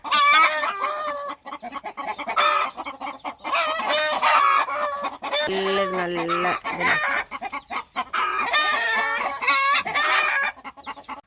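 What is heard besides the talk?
flock of chickens clucking in coop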